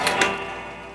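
Ticking from clocks hanging on the walls of a clocksmith's shop, with two brief, bright ticks near the start and a steady ringing hum underneath.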